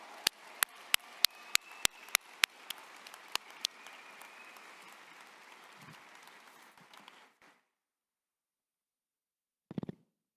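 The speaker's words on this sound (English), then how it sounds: "Let's give another round of applause to our dual grad." Applause from a high school graduation ceremony crowd, a sustained wash of clapping with sharp individual claps standing out, fading out after about seven seconds, followed by a short burst of noise near the end.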